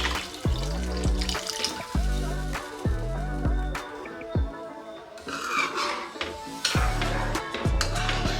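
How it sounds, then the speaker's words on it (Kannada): Water is poured from a cup into a cooking pot to make rava kesaribath, splashing in several short, close pours between clinks and knocks of utensils against the pot. "ಇದೇ ಕಪ್ಪಲ್ಲೇ 2 ಕಪ್ ಆಗುವಷ್ಟು ನೀರನ್ನ ಹಾಕೊಳ್ಳೋಣ"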